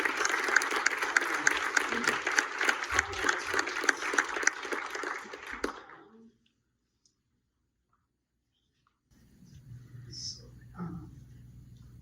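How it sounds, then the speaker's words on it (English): Audience at a finance research competition final claps for the judges, a dense burst of applause lasting about six seconds that stops abruptly, followed by silence and then faint room noise with a brief sound. "How about a round of applause for the judges?"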